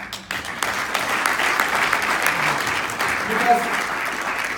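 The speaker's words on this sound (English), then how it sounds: "I think all the mentors should get a round of applause" Audience applause for award mentors at a mentor of the year ceremony, a steady dense burst of many hands clapping in a hall, with a brief spoken word near the start.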